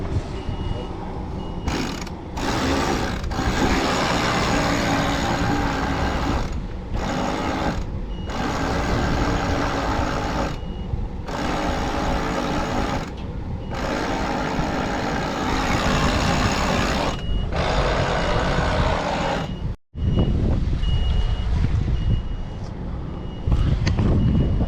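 A steady, repeating electronic beep pulses over loud engine rumble and hum, with people talking at times, continuing throughout.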